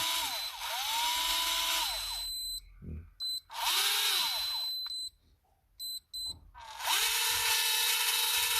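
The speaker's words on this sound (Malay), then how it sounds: "Bunyi gear pun kasar." A Daiwa Hyper Tanacom electric fishing reel motor whirs in three loud bursts separated by short pauses, its high whine carrying a rough, grinding edge from its gears.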